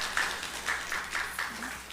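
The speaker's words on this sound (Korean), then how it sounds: "여러분들 박수로 환영하시기 바랍니다" Members of a Methodist church congregation applaud during a Sunday morning service to welcome new members, a faint, steady wash of clapping with repeated swells across the room.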